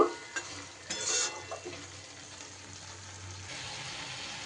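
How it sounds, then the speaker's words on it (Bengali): Mixed vegetables with turmeric and spices being sautéed in a pan with little oil, a soft steady sizzle with a few louder stirring scrapes near the start, no talking. "পুরোপুরি একদম সবজির সাথে কষা কষা করে নেব"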